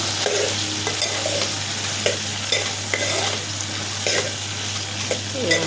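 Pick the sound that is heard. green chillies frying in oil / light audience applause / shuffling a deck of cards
green chillies frying in oil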